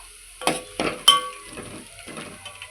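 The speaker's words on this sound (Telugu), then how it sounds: "మంచిగా ఆయిల్లో వేగుతున్నాయి కదా ఆనియన్స్" Onions frying in oil in a pan while being stirred, giving a few sharp clinks and scrapes followed by softer stirring sounds over a faint sizzle, close and without talk.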